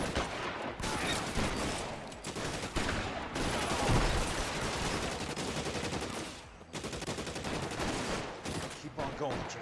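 Rapid bursts of automatic gunfire from a video game fill the scene, loud and dense, with volleys repeating almost continuously and brief gaps between them.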